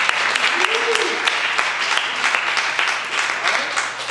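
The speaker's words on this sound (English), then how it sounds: "So let's clap it up for them." Steady improv show audience applause with many overlapping claps, filling the whole stretch at an even, moderately loud level before tapering slightly at the end.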